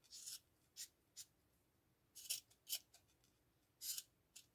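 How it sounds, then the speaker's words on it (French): Scissors snip a craft pompom, trimming it in about eight quick, crisp cuts grouped in small bursts, close up and fairly quiet with no talking. "Donc moi, je vais le couper un petit peu."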